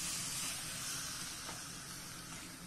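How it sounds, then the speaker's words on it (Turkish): Soy sauce chicken sizzles on a hot saj pan over high heat, a close, steady hiss that is loudest at first and eases slightly, continuous with no talk. "Kızgın saca alıyorum. Şöyle önden biraz pişireceğim."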